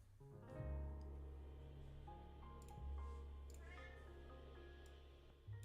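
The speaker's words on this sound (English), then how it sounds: "So he's probably gonna be meowing a bit in the background." An indoor cat meows in a new apartment, giving several drawn-out, tonal meows close to the microphone with quiet pauses between them.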